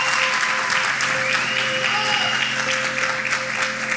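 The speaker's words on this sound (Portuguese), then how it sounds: "Salve de palmas." A crowd applauds continuously, a dense wash of clapping hands holding steady from start to finish.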